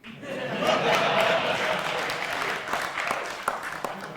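Scattered clapping from a small group, loosest at the start and thinning into individual claps toward the end.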